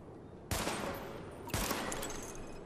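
Two loud gunshot bursts at targets during a weapon test in The Division, each with a sharp onset about a second apart and a long ringing tail that decays slowly.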